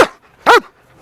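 A police K9 dog gives one sharp, loud, close bark during a demonstration, with the edges of other barks at the start and end and short silences between them.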